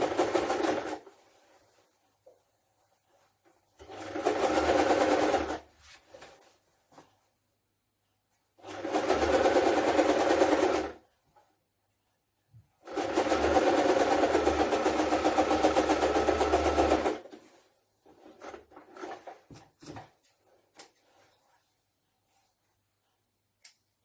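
Sewing machine runs in four separate bursts, the longest about four seconds, stitching a skirt pocket seam; near and clear, with quiet pauses between the bursts.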